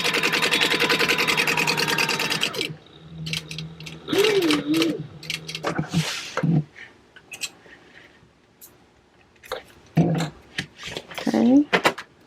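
A sewing machine runs in a fast steady burst while stitching a crossbow bag, then stops as someone talks over softer handling noises and brief clicks.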